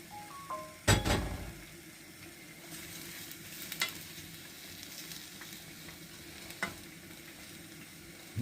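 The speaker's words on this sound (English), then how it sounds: "And then we just tip the stir fry into the pan." Stir fry tipped into a frying pan with olive oil over a gas flame gives a sharp clatter and hiss, then a quiet, steady sizzle with a couple of light clinks.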